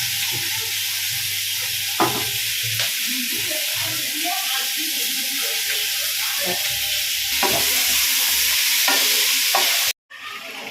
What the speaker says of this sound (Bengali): এবার নাড়লাম।